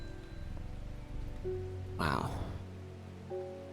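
Rain falls steadily in the Strange Horticulture game, a soft constant patter under faint background tones, while a voice briefly exclaims midway.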